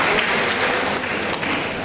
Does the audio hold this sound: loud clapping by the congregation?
yes